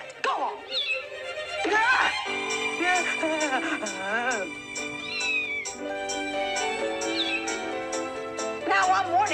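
A cat meows in a kitchen, with drawn-out, wavering cries rising and falling over busy musical accompaniment, and voices heard alongside.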